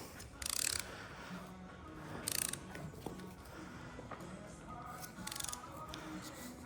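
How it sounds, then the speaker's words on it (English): Torque wrench clicking while fastening a bolt on a 2014 Chevy Silverado 1500 4x4 front differential at a workbench, three sharp ratcheting bursts spaced a couple of seconds apart over faint shop background. "torque wrench just went off"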